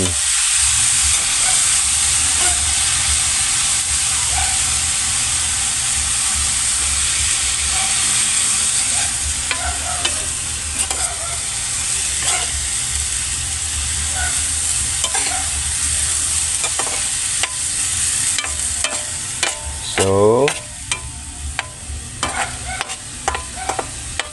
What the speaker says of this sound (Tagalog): Atin ang haluin.